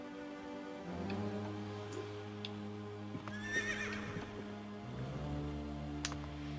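A winged horse from the Castlevania video game neighs in a bright, wavering whinny at mid-clip, rising over a steady sustained game music bed with faint hoof-like clops.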